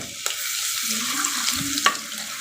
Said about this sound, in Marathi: आता हा लसूण ठेचलेला होता तो टाकूया